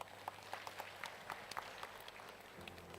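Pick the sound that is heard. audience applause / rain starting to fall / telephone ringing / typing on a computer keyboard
audience applause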